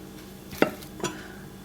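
Two brief clinks of a utensil against a bowl while stirring milk bread dough ingredients, spaced under half a second apart, close by over a low background hum.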